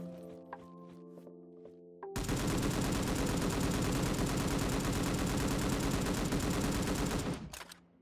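M249 machine gun firing in a video game, a loud sustained automatic burst of about five seconds that begins suddenly after a quieter stretch and cuts off sharply near the end.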